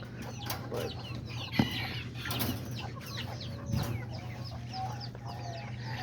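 Egg-laying hens in a backyard coop cluck faintly and intermittently in the distance, with scattered soft calls and no voices.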